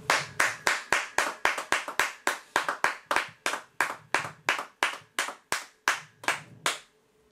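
A church congregation claps together in a steady unison rhythm, about twenty-five sharp, evenly spaced claps close by, with faint murmuring between a few beats.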